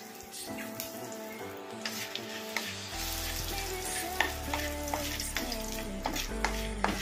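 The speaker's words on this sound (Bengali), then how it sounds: "এবার আমি ফোড়নের জন্য শুকনো লঙ্কা, বড় এলাচ, তেজপাতা আর গোটা জিরে দিয়ে দিলাম।" Dried red chillies, black cardamom, bay leaf and whole cumin hit hot oil for a tempering, crackling and sizzling steadily with sharp pops and a low bubbling hiss that swells halfway through, close and fairly loud with no talking.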